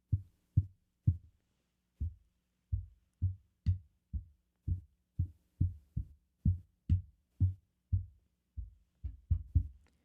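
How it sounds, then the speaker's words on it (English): A series of dull thumps, about twenty taps at an uneven pace on a microphone desk stand holding a Shure KSM8 dynamic microphone, muffled and low, each one short with a brief resonance, nothing else between them. "let's tap on the stand itself"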